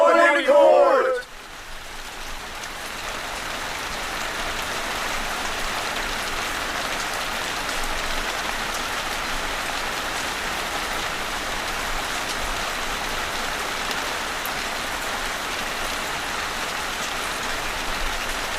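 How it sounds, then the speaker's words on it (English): Heavy rain falling steadily, a dense continuous hiss of drops that holds evenly for most of the stretch after a brief louder moment at the very start. "It's raining quite hard."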